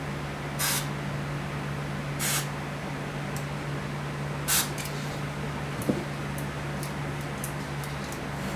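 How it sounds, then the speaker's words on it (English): Contact cleaner is sprayed in several short hissing bursts onto the controls of a Tandberg Model 74b reel-to-reel tape deck, each spurt brief and close, over a steady low hum. "I'll give the controls a shot of cleaner."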